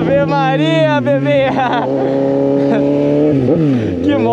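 Loud, close exhaust note from a Suzuki GSX 750 motorcycle revving hard, with quick pitch drops as gears change without the clutch before it settles into a steady drone.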